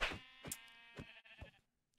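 Sheep in a video game bleat faintly in a quick series of short, wavering calls, one after another with no talk over them.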